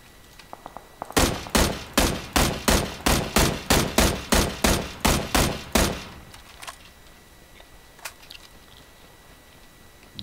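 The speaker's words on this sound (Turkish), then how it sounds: "Bomba var. Bombalar yağacak." Bombardment in the PUBG red zone: a rapid series of about twelve loud, evenly spaced blasts in quick succession, followed by a few scattered fainter cracks and quieter background game ambience.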